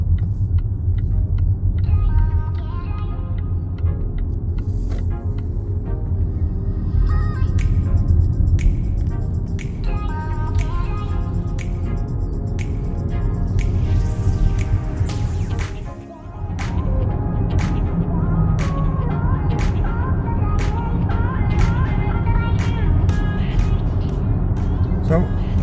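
A Volvo V90 Long Range drives onto a highway with a steady low road rumble and tyre noise inside the cabin, a brief dip midway, and someone talking over it.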